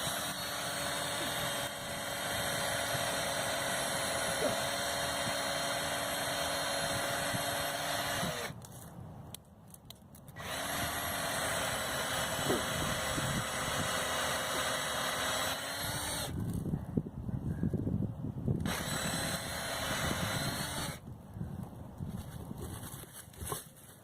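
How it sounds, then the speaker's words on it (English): A power drill boring a tap hole into a maple tree whines steadily at a constant pitch, pausing and restarting a few times, loud and close-up. "drill that same hole, this time at like a little bit of an angle"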